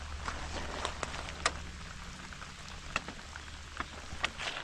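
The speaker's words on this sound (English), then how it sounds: "Oh, here comes the rain." Rain starts to fall during a long outdoor fishing session, with a steady soft patter and scattered sharper drops landing on a nearby surface over a low background rumble.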